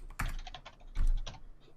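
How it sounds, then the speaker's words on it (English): Computer keyboard typing in two short bursts of quick, fairly close keystrokes, separated by a brief lull, with no voices. "I like it when you say the word you're typing as you type it"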